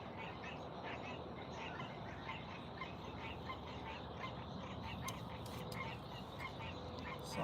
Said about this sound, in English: The frogs are singing.